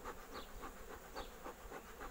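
Honey bees buzz softly at a hive, a faint, continuous hum with slight pulsing swells and no voices.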